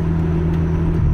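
A 1993 JDM car with Japanese modifications cruises along, giving a steady, close engine hum and low rumble from inside the cabin throughout the short stretch.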